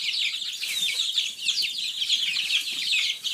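Young chicks with a flurry of high, rapid chirps and peeps, fairly quiet and continuous, without any talking.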